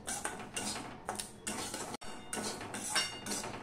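A spoon scrapes and clinks against a pan as semolina is stirred and dry-roasted for a Bengali sweet, steady rhythmic scraping strokes close up with no talk.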